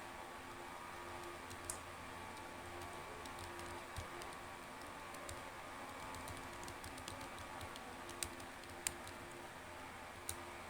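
Quiet clicks of a computer keyboard as an email address is typed, with sparse, irregular keystrokes over a faint steady room hum.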